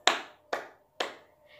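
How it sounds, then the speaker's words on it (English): Three sharp hand claps, close and evenly spaced about half a second apart, each ringing out briefly in a quiet room. "She clapped her hands 3 times"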